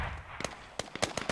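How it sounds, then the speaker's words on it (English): Gunfire in the military shooter game Squad, a scatter of sharp cracks and pops at irregular intervals, some clustered in quick succession, moderately distant and mixed with faint background noise. "A lot of gunfire now."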